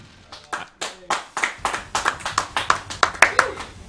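During a Mega Man X4 charity stream, one person claps alone near the microphone, about fifteen sharp claps in a quickening, fairly regular rhythm, building in loudness.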